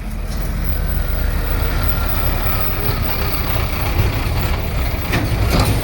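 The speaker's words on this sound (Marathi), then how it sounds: "हेवी थोडंसं वाहन येत आहे" A heavy vehicle crawls over a badly damaged stretch of the Khamgaon–Pandharpur road, its loud continuous engine rumble and road roar filling the scene close by, with a faint brief hiss near the end.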